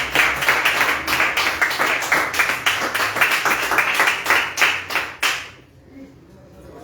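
Church congregation clapping loudly in rhythmic unison at a sermon, a steady beat of strong claps for about five seconds before stopping abruptly, leaving quiet room tone.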